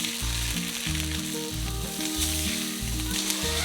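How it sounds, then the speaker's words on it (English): Pork roast searing in a pan before going into a crock pot, a loud continuous close-up sizzle with no talking, under a recurring low droning background. "I am getting my pork roast seared on all of the sides"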